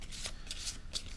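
Board game cards for Tau Ceti: Planetary Crisis shuffled by hand, three quick crisp riffling bursts of papery flicks in an even rhythm, close and moderately quiet over faint room hum.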